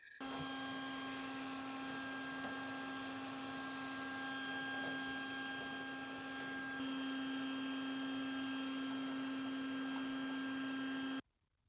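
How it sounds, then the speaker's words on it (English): A vacuum cleaner runs steadily with a strong constant whine and hum while cleaning the outdoor coils of a Mr Cool 24K BTU mini split air conditioner, then cuts off abruptly at the end. "Let's get our vacuum cleaner rolling here."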